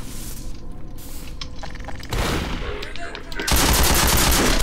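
Rapid automatic weapon fire in Half-Life 2 with a cinematic mod, dense loud bursts that build in intensity and end in a sustained, very loud rattling volley.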